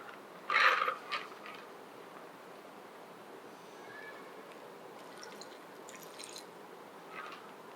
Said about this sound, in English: You can see that it's dripping.